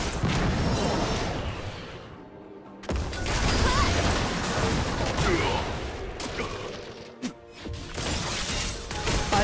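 A turret is destroyed in a League of Legends match, with loud crashing and explosive booms over a dense roar of game effects, a brief drop to near silence, then more heavy impacts and a sharp hit.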